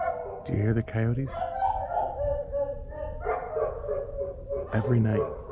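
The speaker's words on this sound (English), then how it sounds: "Do you hear the coyotes?" Coyotes yip and howl at night in two short bursts of high, wavering yips, joined by thinner drawn-out calls between them, heard from some distance.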